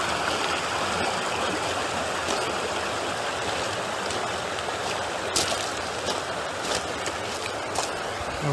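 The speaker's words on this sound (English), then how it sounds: "You can see the waterfall." A waterfall and flowing stream beside a bridge in the Crystal Recreation Area along a Jeep trail make a steady, dense rushing roar, close and unbroken throughout, with no voices.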